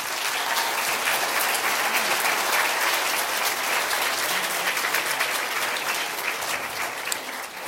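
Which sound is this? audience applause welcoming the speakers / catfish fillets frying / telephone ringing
audience applause welcoming the speakers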